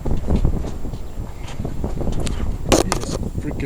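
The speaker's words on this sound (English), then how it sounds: "It is freaking windy." Strong wind outdoors buffets the microphone in a steady, loud rumble, with a few brief thuds and scrapes over it.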